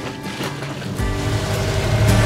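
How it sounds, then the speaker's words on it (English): A sailboat's auxiliary engine starts up and runs steadily with a low, continuous drone on calm water when the wind has died, louder and even after the first second, with no talking. "I've actually had to put the engine on because there's no more wind."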